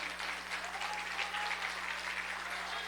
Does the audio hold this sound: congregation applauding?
yes